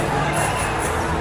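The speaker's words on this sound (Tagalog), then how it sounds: "Everybody was cheering for Ginebra." A large basketball arena crowd cheering for Ginebra during a semi-final game against San Miguel, a dense, steady roar of many voices filling the space with no single voice standing out.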